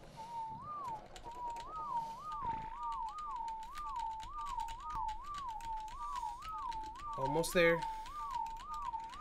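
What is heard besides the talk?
whistling commands to tame animals in video game ARK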